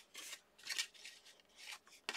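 Scissors snip through a scrap of paper in a quick series of short, close, crisp cuts, four or five slicing strokes with brief pauses between them, quiet and alone.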